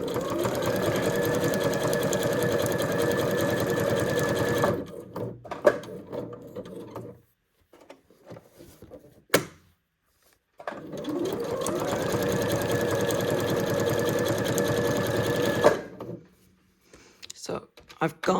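An electric sewing machine stitches around the edge of a quilted fabric-square card in two long, loud, steady whirring runs, with a pause and faint handling sounds between them.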